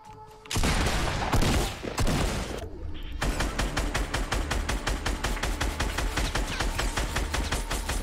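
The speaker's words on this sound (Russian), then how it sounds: "Я в него спамлю, блядь, выстрелами, не попадает." Video game gunfire: a dense opening burst of shots, then a long rapid, evenly spaced run of loud automatic fire, no talk over it.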